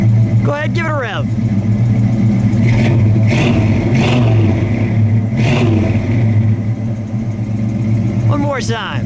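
A 1969 Mercury Cyclone Spoiler with a 351 V8, a Cale Yarborough Special, idles with a loud, steady rumble and is revved a few times close by, with people talking over the engine at the start and end.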